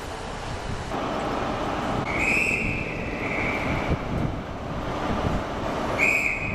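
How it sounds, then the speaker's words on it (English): Train rumble and wind noise at Penzance station in Cornwall, with two high whistle-like squeals standing out as the train moves off. "To see the train leaving the station."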